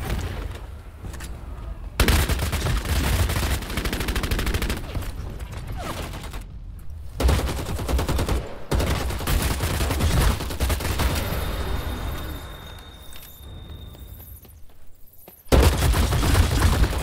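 Heavy gunfire in the battle royale game Vampire Bloodhunt, with loud broadband shotgun-like blasts and bursts breaking in sharply at several points over a dense, continuous combat din.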